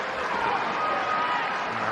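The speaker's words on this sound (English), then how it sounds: "that gets a rapturous round of applause from the Rosario fans there" Football fans of Rosario applauding at a junior cup final, a steady, even wash of clapping from a crowd at moderate distance.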